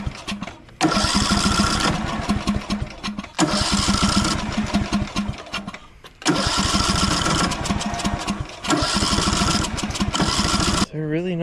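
A small engine with a freshly cleaned carburetor and new gasket runs in loud, rough bursts, revving for a few seconds, cutting out briefly, then catching again several times before stopping.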